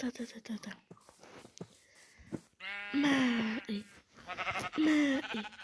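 Sheep in the video game Minecraft bleating in a few loud, wavering cries close by, with a player whispering in between.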